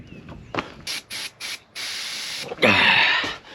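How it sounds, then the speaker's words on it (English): A can of spray glue hisses in short bursts and then longer sprays, the final spurts sounding ragged and sputtering as the can runs out, loud and close with no voices. "Run out of flipping spray glue"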